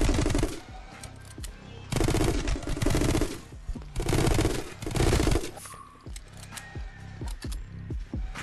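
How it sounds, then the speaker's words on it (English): Repeated loud machine gun bursts in the video game My Friend Pedro, several dense rattling volleys separated by brief quieter gaps with clicks, no talk. "it basically takes two bursts from a machine gun to kill these guys"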